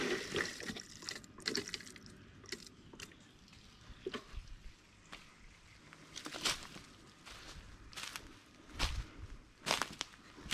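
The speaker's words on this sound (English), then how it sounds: "Let's go ahead and turn the water on and see what the flow is down here." Water runs from an off-grid pipe laid through the woods, a steady splashing flow with repeated sharp bursts and drips, close and fairly quiet, heard alone.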